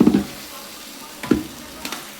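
Chicken liver for a Kerala-style chicken curry is stirred in a hot pan, with a few short scraping stirs standing out over a soft, constant sizzle.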